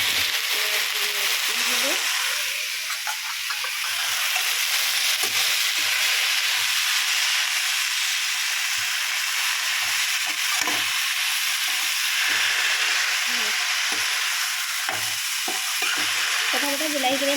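Ginger, garlic and chili sizzle in hot oil with browned onions, a steady loud frying hiss with occasional stirring scrapes and clatter throughout.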